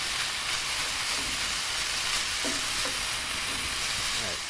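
Half a diced onion sweats in a pan with buffalo chicken, a steady, fairly loud hiss and sizzle with occasional faint scraping stirs, no talking.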